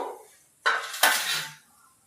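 Fried wheat-flour khari is set down onto a dish, giving two quick close clatters of crockery and utensil contact followed by a short scraping rustle, with no talking.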